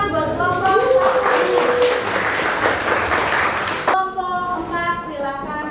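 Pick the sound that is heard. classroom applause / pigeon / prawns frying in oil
classroom applause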